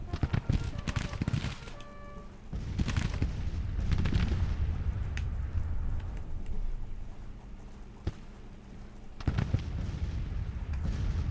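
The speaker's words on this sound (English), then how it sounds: "Oh, yeah, I don't like the artillery" Artillery fire in the strategy game Grand Tactician: The Civil War, a series of deep booms and blasts over a steady low rumble of battle, with a sharp report near the middle and another late, while someone talks over it.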